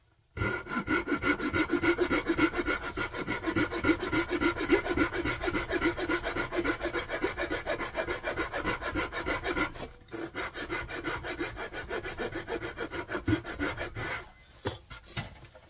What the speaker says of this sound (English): So we just get it set up, get our razor saw,